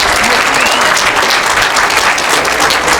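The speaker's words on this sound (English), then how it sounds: "Please give Mr. Hill a big round of applause and for his re-election" Loud, dense applause from an audience at a Hazaragi cultural day celebration honouring a member of parliament, a continuous close roar of clapping hands without a break.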